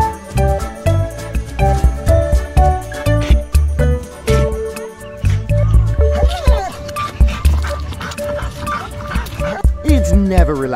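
Dog barks and whimpers in sharp, repeated yips mixed with jingling and a busy music bed, loud and close, with people talking throughout.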